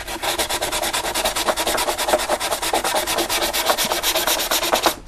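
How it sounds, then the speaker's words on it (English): Gorilla Glue on a plastic aircraft model wing is sanded by hand with 320 grit sandpaper, making a steady, rapid back-and-forth scratchy rubbing that runs close and continuous for several seconds. "this Gorilla Glue does sand"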